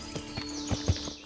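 Hooves clip-clop in a steady walking rhythm from a horse in the medieval game Kingdom Come Deliverance, four close, moderately loud footfalls.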